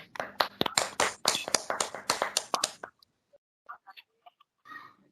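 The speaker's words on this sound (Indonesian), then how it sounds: "Beri semangat, tepuk semangat kepada kelompok 1 dan untuk kita semua" Participants in an online education class give a spirit clap for a group: a fast, rhythmic burst of close, crisp handclaps lasting about three seconds, then stopping, followed by a few faint scattered sounds.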